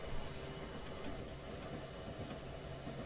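A train in a video game rumbles steadily over a track switch with a low continuous roar, faint hiss and some rhythmic clatter, no voices.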